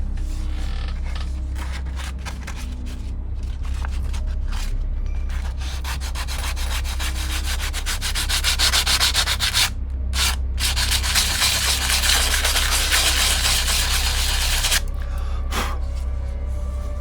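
Sandpaper rubs steadily across the wooden hull of an OCCRE Flying Dutchman 1:50 scale model ship in continuous close scratchy strokes that swell in the middle and pause briefly near the end.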